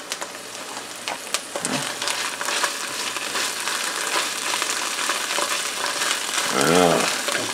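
Chopped garlic cloves sizzle and fry in a pan, a steady loud crackle with scattered pops and scrapes of stirring, close up throughout.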